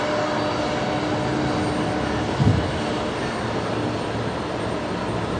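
A Qantas Link Embraer 190 arrives at Brisbane Airport, its engines a steady, far-off broadband roar that holds level throughout, with one brief louder bump partway through.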